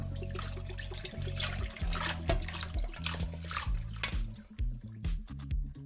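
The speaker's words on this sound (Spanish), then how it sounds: "podemos echar toda la leche." Milk poured into a roux for gluten-free, lactose-free ham croquettes, a steady close liquid pouring and gurgling with dripping splashes, with no talking.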